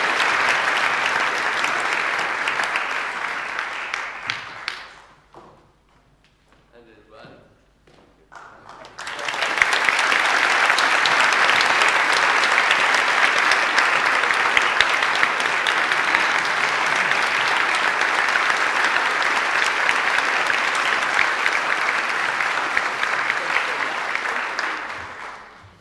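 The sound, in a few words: applause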